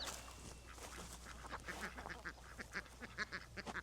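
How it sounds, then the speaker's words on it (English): Escaped ducks rooting around in a muddy culvert on a Maine homestead, quacking in quick, scattered bursts that grow busier and louder toward the end, close by with no talk. "you can see all my ducks have all escaped when I took the fence down"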